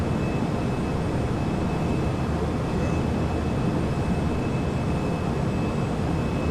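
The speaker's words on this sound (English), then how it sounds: "Love the engine sounds, man." Embraer E-Jet engines in Microsoft Flight Simulator give a steady, loud broadband roar with a faint high whine, unbroken throughout and with no talk.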